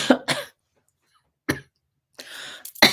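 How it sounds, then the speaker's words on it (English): Several sharp coughs and throat-clearing bursts come in separate clusters between silent pauses, close and fairly loud. "I triggered more coughing."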